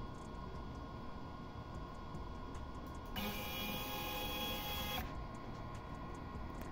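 A Comgrow mini CNC router runs G-code while milling a PCB, giving off a steady motor hum with ticking stepper pulses, and a brighter high whine from the spindle rises for about two seconds midway.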